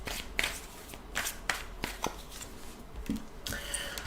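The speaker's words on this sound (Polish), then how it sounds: "tutaj karty mi się posypały prawie" Tarot cards are handled and shuffled close by. Soft papery riffles and scattered card taps sound quietly against faint room noise, with no talking.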